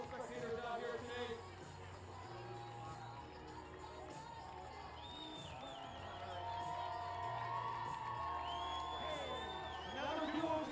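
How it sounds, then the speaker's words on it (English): Spectators lining the Falmouth Road Race course cheer runners on with a steady crowd roar, scattered whoops and shouts rising and falling, while a nearby announcer talks over it. "You got the crowd cheering for you"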